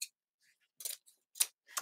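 Scissors snip the ends of ribbon in a deco mesh wreath kit: three short, crisp cuts spaced apart, close and fairly quiet, with the last one the sharpest.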